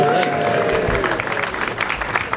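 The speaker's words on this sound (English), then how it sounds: "I thought we needed a cheer" An audience at a Poole Pirates speedway evening applauds and cheers in a steady burst of clapping, with a voice talking over it.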